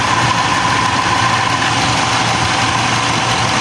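Aircon compressor now cycling automatically after repair, running with a steady, loud mechanical drone and vibration, close by with no pauses.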